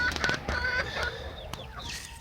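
Chickens and a rooster cluck close by in quick, uneven bursts, with several short calls overlapping and a few rising squawks.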